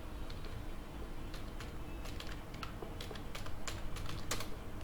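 Keys clatter on a computer keyboard while text is entered in MS Word for a resume, a quick irregular run of light clicks heard close and alone with faint room hiss beneath.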